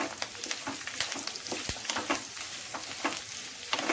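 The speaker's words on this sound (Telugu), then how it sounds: "తరిగిన ఉల్లిపాయ ముక్కలు వేసి బాగా వేయించుకోవాలి." Chopped onions frying in a pan with ginger-garlic paste and curry leaves, a dense steady sizzle and crackle at close range with occasional stirring scrapes and no voices.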